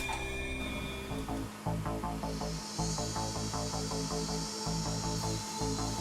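A rotary tool running at 10,000 RPM polishes a resin surface with a microfiber leather buff and Polystar Beige compound, a continuous close motor whine with rhythmic rubbing pulses and brief dips as contact pressure changes.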